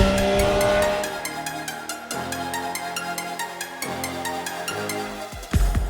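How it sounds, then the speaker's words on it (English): Stock Euro 5 exhaust on a 2021 Triumph Speed Triple 1200 RS, loud, close engine notes rising and falling through repeated revs and gear changes, ending in a brief sharp burst. "this amazing exhaust note from the stock Euro 5 can"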